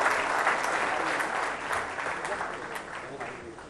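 Loud, sustained applause from a large audience at a live stage celebration event, dense clapping holding steady throughout without a break.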